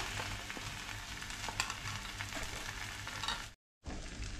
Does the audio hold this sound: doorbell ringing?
no